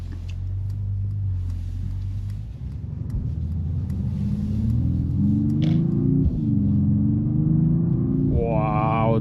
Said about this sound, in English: This AMG enhanced 3-liter inline-six is the actual engine we should have gone into the C63S.